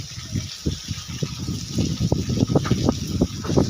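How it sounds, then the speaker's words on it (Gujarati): Heavy monsoon rain pours down in a town in Gujarat while floodwater gushes and splashes through a waterlogged lane, a dense, uneven rushing wash with repeated surging bursts close by, and no voices. "વરસાદ આવે છે."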